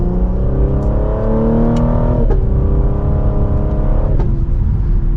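A 2024 Cadillac CT5-V in sport mode pulls hard in second gear, its engine droning and rising steadily up close, with a few sharp exhaust pops cracking through between shifts.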